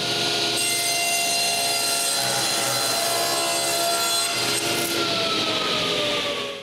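A power saw cuts wooden pieces for a nine-drawer dresser down to height in a woodshop, giving a loud, steady, whining cut that holds throughout and fades slightly at the very end.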